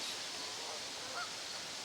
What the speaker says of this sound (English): Flock of geese overhead.